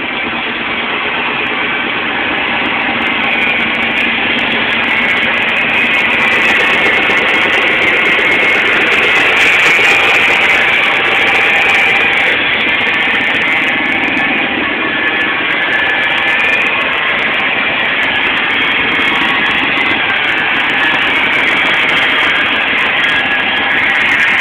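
A car engine fitted with an alcohol tank and pump runs steadily for a long stretch, a loud, even roar that holds close and unbroken, with no talking.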